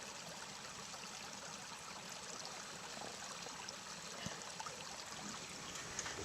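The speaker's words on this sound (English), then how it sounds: "This is Chuckling Creek. Hear it chuckling?" A small creek trickles and babbles steadily in a quiet outdoor setting at sunset, a faint, continuous wash of running water with no voices.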